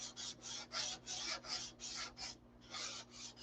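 Quiet, rhythmic rasping of sandpaper rubbing back and forth over a surface being detail-sanded before paint, about a dozen short strokes with a brief pause midway.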